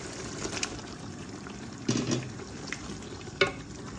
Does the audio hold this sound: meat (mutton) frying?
yes